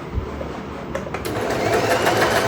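A sewing machine stitches a curved kurti seam made from a saree, running in a steady, close whir throughout with no talk over it.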